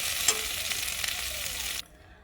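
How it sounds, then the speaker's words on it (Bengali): Boiled potato mashed in a frying pan for a crispy okra and potato chop snack, a soft sizzle with scraping strokes running steadily for about two seconds before cutting off abruptly into near silence. "আলুটাকে খুব ভালো করে একটু ম্যাশ করে নেব"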